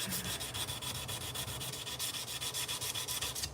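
Steel file blade being hand sanded at 320 grit, a quick regular back-and-forth rasping stroke repeated many times in a few seconds, close and fairly quiet with no talking.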